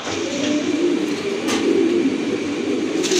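Big fancy pigeons at a pigeon market in Bangladesh coo softly in a steady, close chorus over a constant background din of the crowded market.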